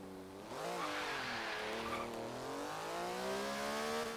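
Porsche 911 of the 991 generation accelerating hard in Forza Horizon 3, a loud, close engine climbing in pitch through rising revs, a brief dip at a gear change, then pulling strongly again, steady and continuous.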